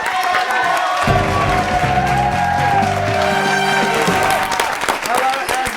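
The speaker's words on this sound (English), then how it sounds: "Give her a round of applause." A studio audience at a comedy game show applauds and cheers, a loud continuous wash of clapping under music and a host's voice.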